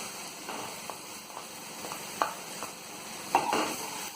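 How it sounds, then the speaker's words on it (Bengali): Ginger paste mixed with turmeric powder fries in a pan for a curd bhetki fish curry, a soft steady sizzle broken by a few light scrapes and stirring knocks, close and fairly quiet with no talking. "এবার একটু ভেজে নেব।"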